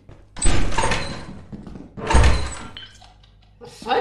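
Heavy door thunking open in Lethal Company, two loud hollow bangs with scraping rumble about two seconds apart, then faint clatter at the end.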